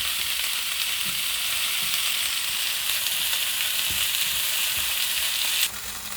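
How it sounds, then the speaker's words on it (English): Steady, loud sizzling of precooked taco meat and vegetables reheating in a hot pan, a continuous hiss with occasional light stirring clinks. "It is really sizzling."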